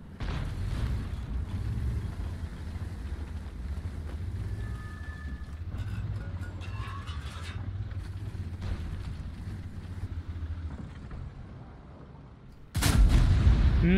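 A T110E4 tank's cannon fires once in a video game, a sudden loud blast near the end that cuts through a steady, heavy engine rumble.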